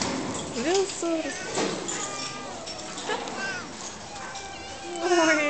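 Kittens meow repeatedly on a cow farm, several thin, high mewing calls scattered over the clip amid barn ambience.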